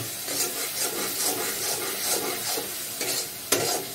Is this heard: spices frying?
yes